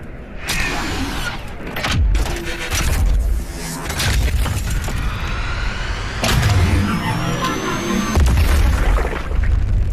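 Shoulder cannon fire in the video game Doom Eternal, several loud booming bursts with mechanical clatter, spaced a couple of seconds apart, with no talk.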